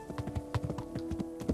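Horse hooves clip-clopping in a steady, quick rhythm in the medieval game Kingdom Come: Deliverance, close and continuous with a faint tonal background underneath.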